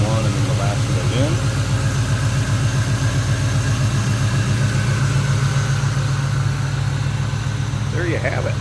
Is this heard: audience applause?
no